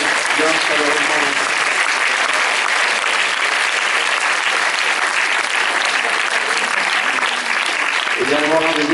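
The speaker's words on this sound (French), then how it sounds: "Je voudrais l'applaudir bien chaleureusement." A cinema premiere audience warmly applauds a film's producer, with dense sustained clapping from a large crowd filling the room and a voice briefly heard near the start and end.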